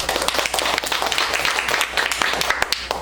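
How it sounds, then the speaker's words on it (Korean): Audience applause after a teacher's presentation at a digital learning festival, a dense, even wash of clapping that continues steadily throughout at moderate loudness. "김명찬 선생님께 다시 한번 박수 부탁드립니다"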